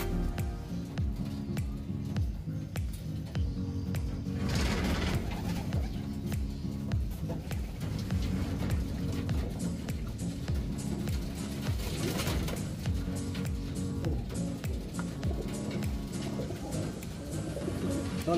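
Racing pigeons in a loft, birds conditioned for a derby race, coo steadily and overlapping throughout, with soft wing flutters and shuffling close by and no talking.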